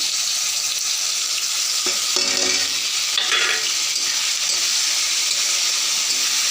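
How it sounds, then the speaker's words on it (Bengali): Spices sizzling and frying in hot oil for a village-style egg and potato curry, with steady stirring and scraping in the pan throughout, close and fairly loud. "লাল লাল করে ভেজে নিলাম। তারপরে সব কিছু মশলা একসাথে দিয়ে দিব।"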